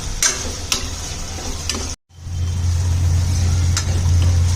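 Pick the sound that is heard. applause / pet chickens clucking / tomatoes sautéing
tomatoes sautéing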